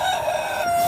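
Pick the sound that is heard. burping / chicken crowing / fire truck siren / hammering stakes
chicken crowing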